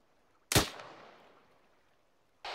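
A single sharp gunshot in the military video game ArmA 3, loud and close, with a long decaying echo that rolls away, followed by the onset of another shot at the very end.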